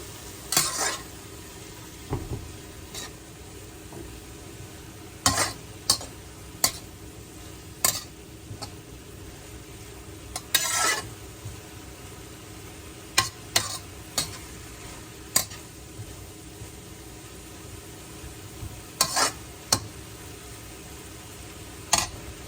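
Broad beans fry quietly in a pan with a soft sizzle, and a spoon scrapes and clinks against the pan in scattered sharp strokes.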